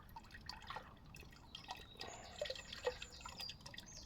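Wild clay slurry is poured gently through a small strainer, giving faint, close trickling and dripping with soft splashes and a few brighter drops.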